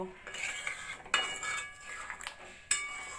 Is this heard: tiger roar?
no